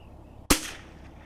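A single sharp rifle shot at an outdoor shooting range, one loud close blast with a short decaying echo, and no talk.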